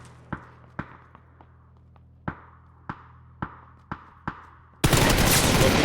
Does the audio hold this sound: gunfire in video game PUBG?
yes